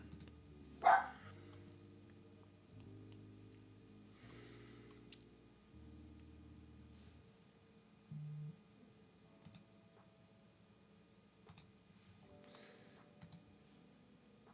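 A pet dog gives one sharp bark early on, a little distant, over a quiet background of faint computer keyboard typing and tones.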